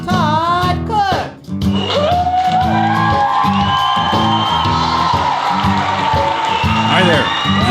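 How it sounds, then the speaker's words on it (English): An audience cheers and whoops loudly and steadily at the opening of The Todd Cook Show, broadcast from a garage, with voices and music mixed into the din. "I hear everybody cheering"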